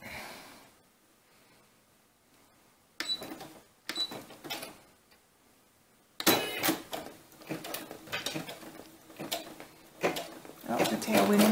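A Brother SE-400 embroidery machine stitches lines in a hoop, heard as fairly quiet mechanical rattling bursts that start and stop and grow busier toward the end, with a person speaking softly now and then.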